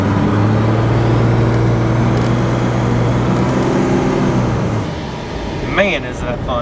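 A Cummins 5.9 diesel pickup in two-wheel drive pulls hard from 0 to 60, a loud steady engine drone rising under the cab, then easing off as a voice starts speaking near the end.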